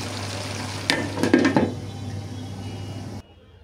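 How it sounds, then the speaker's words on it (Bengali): Winter vegetables, including beans and cauliflower, are sautéed in a pan, giving a steady close sizzle with a short burst of stirring and clattering in the middle before the sound cuts off. "এভাবে ঢেকে ঢেকে আমি খুব ভালোভাবে সবজিটা কষিয়ে নিচ্ছি"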